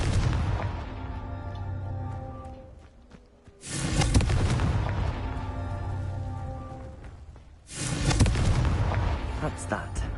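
Confringo blasting spell cast in the Hogwarts Legacy video game, two loud booming bursts a few seconds apart, each rolling out into a sustained rumble over a continuous game soundscape.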